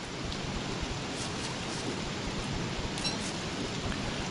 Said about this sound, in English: the rain wears out your torches and your fires faster than just no rain